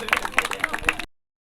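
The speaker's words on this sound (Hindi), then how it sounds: "जोरदार ताली से स्वागत कीजिए।" Audience clapping to welcome a young performer at a school cultural programme, a quick scattered burst of hand claps from a small crowd that cuts off abruptly after about a second.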